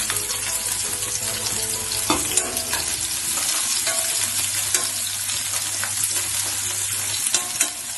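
Onions sizzling and frying in a pan for moong dal khichdi, with a steady crackle and occasional stirring scrapes, close up, and a low hum underneath.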